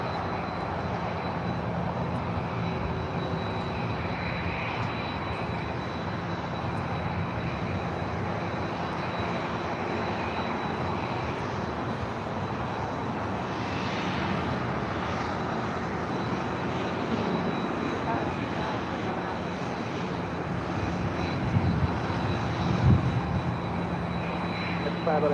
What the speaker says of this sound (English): United Dreamliner heading to Hong Kong, flight 801, heading to the north side for a departure on 24 left.